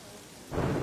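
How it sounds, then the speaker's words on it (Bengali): Quiet rain patters, then about halfway through a low thunder rumble swells in and the downpour grows louder until the end. "বাইরে বৃষ্টির সঙ্গে এবার যোগ হয়েছে মেঘের গর্জন"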